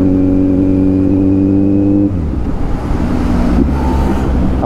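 Kawasaki Z900 motorcycle engine holding a loud, steady high rev, then dropping with a shift up a gear and pulling on with a rougher, throatier drone, close and with no talking.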